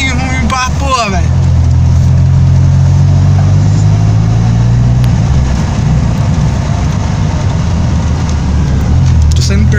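A small car engine drones loudly and unevenly, its low pitch sagging and wavering as it strains and nearly stalls, with a rattle near the start and close-up noise throughout.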